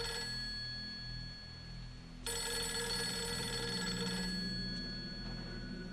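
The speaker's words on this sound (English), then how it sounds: "That's a rotary telephone." An old rotary telephone rings in the Project Zero 3 video game, a steady metallic bell trill that grows louder partway through over a low, droning ambient score.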